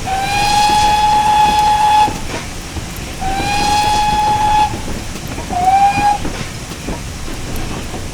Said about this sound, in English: Sound the whistle for the crossing.